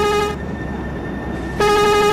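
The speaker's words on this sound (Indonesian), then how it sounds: "Kita kasih klakson" Bus horn in the Bus Simulator Indonesia game at a railway crossing beside a passing train, two loud sustained tonal blasts separated by a short gap, close and dominant.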